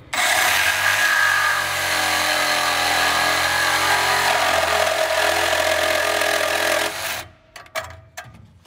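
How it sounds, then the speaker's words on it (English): A steady, loud grinding whine of a power cutting tool cutting a metal fuel pipe on a barn-find Sprite car runs for about seven seconds, then cuts off, leaving a few clicks and clatters. "So I'm going to cut this pipe off here and here"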